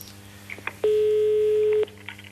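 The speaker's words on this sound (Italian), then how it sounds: "Fai il numero." A telephone gives one steady tone lasting about a second during a call being placed, set amid quiet room noise with faint clicks before and after.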